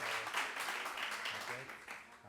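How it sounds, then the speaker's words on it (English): An audience claps at a Moth live storytelling show, a dense, continuous patter of many hands at moderate distance, with a voice speaking over it. "keep that applause going for Bryan Kett"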